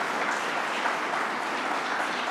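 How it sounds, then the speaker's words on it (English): Sustained applause from an audience at a New York State government event honoring a military veteran, steady dense clapping filling the room without talk. "Let's give him another round of applause here."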